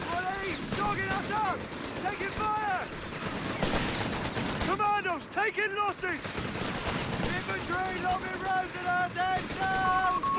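Company of Heroes 3 battle with LMG Commandos laying down suppressing fire: continuous bursts of machine-gun fire and crackling gunshots, dense and loud throughout, with whining tonal effects layered over the fighting.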